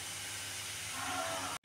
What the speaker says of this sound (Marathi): इथे बघा, आपला कांदा पण जरा बऱ्यापैकी तळत आलेला आहे